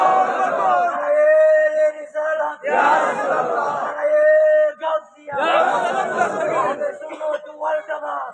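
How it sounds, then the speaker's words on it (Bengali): A large crowd at an Islamic sermon in Dhaka roars the takbir in unison, several loud surging shouts of massed voices with brief gaps between them. "জোরে একটা তাকবীর দেন।"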